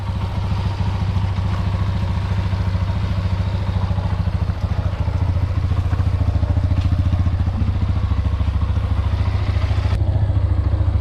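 A motorcycle engine runs steadily and loud while being shifted from first through fifth gear during a BG EPR engine flush, a dense rhythmic idle with clattering mechanical detail throughout and a brief change near the end.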